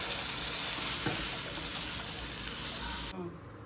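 Chilli crackles and sizzles in hot oil while tempering for a home-cooked dish, giving a loud, dense, steady frying hiss that carries on without a break and then drops off abruptly near the end.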